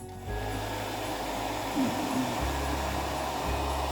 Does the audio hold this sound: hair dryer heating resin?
yes